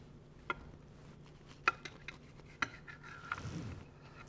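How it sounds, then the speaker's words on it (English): A knife slices French toast casserole into portions in a baking dish, giving a few faint, sparse clinks and scrapes of metal against the pan, close and quiet. "We are just going to cut it just like you would a brownie or anything like that."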